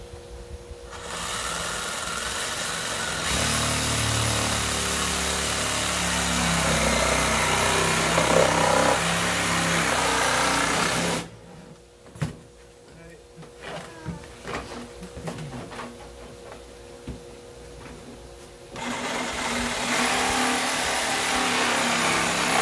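A reciprocating saw cutting through a plastic 5-gallon bucket gives a loud, continuous buzzing rasp that stops partway through, then returns after a quieter stretch of scattered knocks and handling noise.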